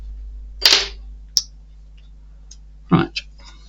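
Scissors being handled while building a Titanic engine model give a few sharp, close clicks and clacks separated by quiet gaps on a workbench.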